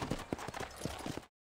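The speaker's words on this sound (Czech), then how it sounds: "Kde je můj kůň? Tady je můj kůň." Horse hooves clip-clopping in a Western-style video game, a quick run of about eight hoof clops at moderate level, close by, cutting off abruptly into silence.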